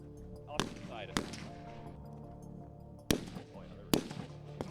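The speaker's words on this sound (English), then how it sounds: "The muzzle blast from that rifle was quite incredible." Rifle fired at an outdoor shooting range, its loud muzzle blast cracking out as sharp sudden reports about four times across the span, with quieter background between shots.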